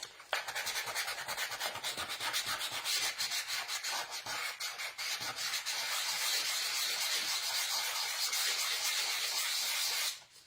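Sanding roughs up the surface of a plate for a DIY bird feeder, a steady close scratchy rubbing that continues almost without pause, with rapid back-and-forth strokes throughout.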